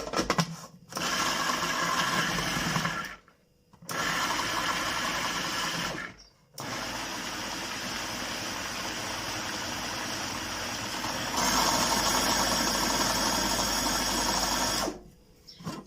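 An electric food chopper minces an onion and three garlic cloves in steady motor bursts, loud and close, with short pauses between the pulses.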